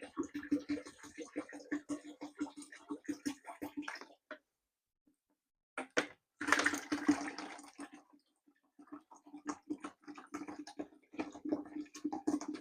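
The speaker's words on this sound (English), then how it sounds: "I think at this point we will add 4 litres of water in total." Water is poured into honey in a mead-making vessel, giving a splashing, gurgling flow that stops briefly and then resumes, heard close and fairly quiet.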